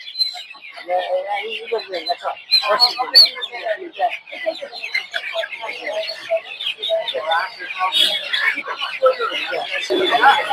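Farm chickens cluck and squawk among caged poultry, ducks and pigeons at a busy Sunday bird market in Tongi, Dhaka, with people talking nearby throughout.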